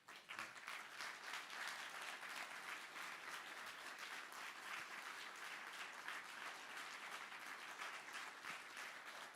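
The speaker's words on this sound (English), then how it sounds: "May I just ask that we all offer a round of applause to you to say thank you, Peter, for everything." A crowd gives a long round of applause as thanks at an event marking 80 years of liberation, an even, continuous clapping that sounds somewhat distant and quiet.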